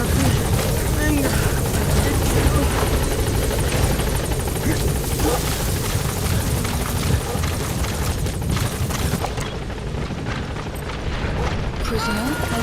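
Support helicopter arriving in Metal Gear Solid V: The Phantom Pain, a loud, steady rotor roar with low rumbling booms that holds throughout, overlaid with other game audio.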